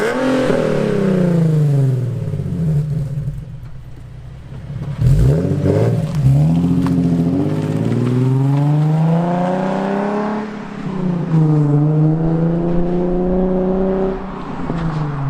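A Nissan 370Z engine with about 120,000 miles fires up and revs repeatedly, the pitch climbing and falling in loud, aggressive bursts.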